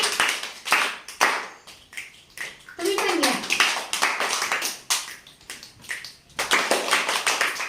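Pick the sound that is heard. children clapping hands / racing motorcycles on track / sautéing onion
children clapping hands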